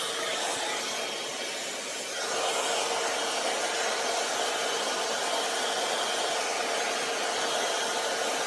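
Envy Airstyler hair styler on high heat and high fan setting, giving a steady loud broadband airflow whoosh with a motor hum throughout, rising slightly in level after about two seconds, with no talking.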